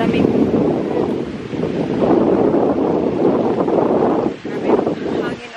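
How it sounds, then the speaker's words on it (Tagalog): Strong gusty wind roars against the microphone outdoors in Germany on a cold day, a loud, continuous buffeting rumble that swells and dips, with one sharp drop near the end. "Grabe yung hangin, oh."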